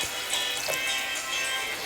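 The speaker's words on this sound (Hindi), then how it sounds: "now at this point I add some lukewarm water" Lukewarm water pours steadily into a pot of deghi korma as it cooks, a continuous, even liquid rush with no talking.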